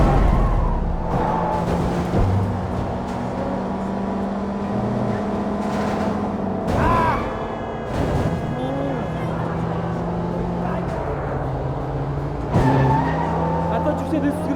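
Cars in the Sleeping Dogs video game skid and squeal their tires as one drives off, the engine roaring steadily at close range under a looping game soundtrack, with brief louder screeches of rubber.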